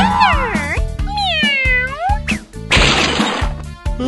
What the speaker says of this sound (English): suddenly, out of nowhere, a cat appeared. Meow.